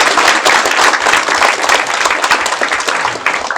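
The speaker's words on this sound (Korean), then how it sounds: "우리 김학수 교수님께 다시 한번 큰 박수 한번" Audience applause for a professor's lecture at a book publication ceremony, a dense, steady roar of many hands clapping at once, loud and sustained throughout with no speech over it.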